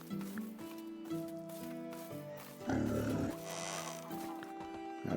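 A hog in a video game lets out loud, rough squeals and grunting cries with shifting pitch, rising into a harsher burst partway through over a low background.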